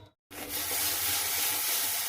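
Tomatoes frying in oil in a pan for Bengali egg curry, a steady close sizzle that starts abruptly after a brief silence and continues evenly, with no talking.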